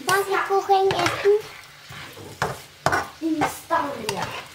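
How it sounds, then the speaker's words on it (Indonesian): Frozen instant fried rice with chicken and vegetables is stirred in a pan, giving scraping and light sizzling under someone talking throughout. "kita goreng dulu ya nasinya"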